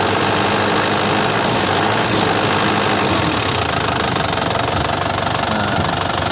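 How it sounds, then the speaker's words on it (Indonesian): Idling engine of a 2008 Suzuki Karimun Estilo-style compact; a 2008 LM Smart Turbo car engine runs steadily at idle just after start-up, a close, loud, even mechanical hum with faint knocking texture and no talking. "Oke, ini mesin sudah saya nyalakan."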